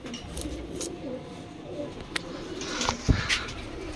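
Dabe Wale and Missey jaildar pigeons coo softly close by, with a few low calls rising near the end. A faint background hum runs underneath and there is some light handling noise.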